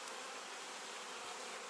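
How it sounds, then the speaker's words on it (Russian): Honey bees buzzing over queen cells in an apiary hive, settling to warm them; a dense, steady swarm hum fills the whole moment at close range, without voices. "Там уже пчелы садятся и прогревают."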